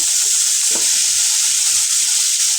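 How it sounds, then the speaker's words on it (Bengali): Bottle gourd greens and onions are stirred in a hot frying pan, with a steady loud sizzle broken by soft scraping strokes of the spatula. "এখন এটাকে আমি ভালো করে নাড়াচাড়া করে নেব"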